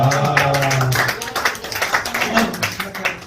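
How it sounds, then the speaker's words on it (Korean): Clapping from a church youth group gathering, a brisk, irregular patter of hands mixed with tonal voices and chatter, fairly loud and close. "박수 한번 쳐주세요"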